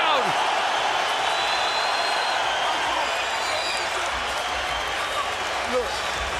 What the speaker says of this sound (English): Manny Pacquiao rallying the crowd